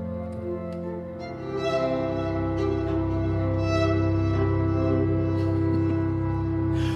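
Sampled cello texture blending sul tasto and punta d'arco bowing, a soft sustained layered drone with airy, breathy upper shimmer and occasional faint scratchy accents, steady and unaccompanied by talk.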